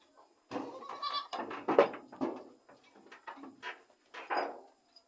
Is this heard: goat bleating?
yes